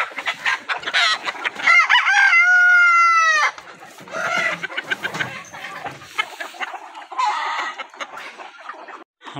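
Golden Misri hens cluck in short bursts on a farm while a rooster lets out a loud, clear crow, with more clucking and scattered calls after it.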